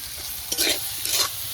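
Spiced mixture with salt and turmeric frying in a pan, steady sizzle broken by two bursts of stirring scrapes from a spatula.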